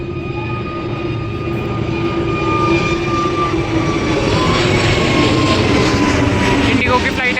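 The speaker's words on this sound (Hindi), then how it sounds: "ये देखो टेक ऑफ कर रही है, मैं आपको दिखाऊंगा। इसकी आवाज़ भी देखो कितनी ज़ोर की होती है।" An IndiGo airliner takes off from a nearby airport, its engine roar swelling steadily loud and continuous, heard from a rooftop with some background noise.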